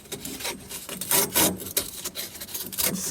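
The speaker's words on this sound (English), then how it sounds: "I got my little sandpaper here. I'm going to cut a piece. And I'm going to sand this real good." Sandpaper rubs back and forth against a copper water pipe in quick, rasping strokes, close and fairly loud with an uneven rhythm.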